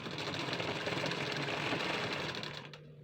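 A sewing machine runs steadily while stitching a garment sleeve in a straight line, a dense continuous whirring hum close by that slows and stops near the end.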